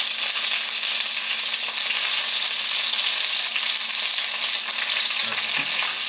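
Dumplings fry in a pan over low heat with a steady, dense sizzle and crackle throughout, close and fairly loud, with no talking.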